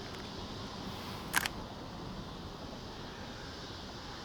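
A Leica CL film rangefinder fires its shutter once during evening street photography in Chattanooga, a single short crisp click standing out close and clear against steady outdoor ambience.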